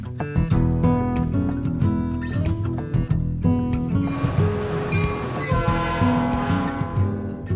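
A Metra commuter train rumbles loudly and steadily close by, with sustained tonal rail sounds ringing over the heavy rolling noise throughout.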